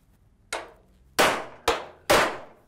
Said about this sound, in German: muss ich mit einem Dorn diese Löcher stanzen und dann immer sehr nah am Schnitt bleiben